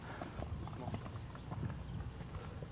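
Hooves of a tall horse clip-clop steadily on arena footing during a show jumping warm-up at a Paris horse show, with a busy, irregular rhythm under faint background chatter.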